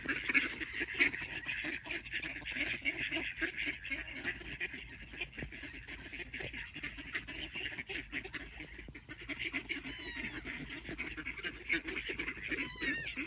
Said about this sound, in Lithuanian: Girdi kaip kaksi ančiukai.